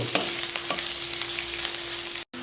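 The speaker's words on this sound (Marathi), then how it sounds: "हे अद्रक लसूण घालू हे हिरवी मिरची घालू याला ना चांगलं परतून घेऊ" Ginger, garlic and green chilli sauté in ghee, giving a steady, close sizzle and light crackling, cut by a brief dropout to silence near the end.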